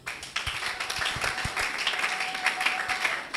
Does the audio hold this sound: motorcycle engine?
no